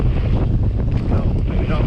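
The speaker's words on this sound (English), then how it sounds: "Oh, it's windy though." Strong wind buffets a microphone outdoors on a mountain bike trail at Newbold Comyn, a loud, continuous rumbling roar with no clear talk.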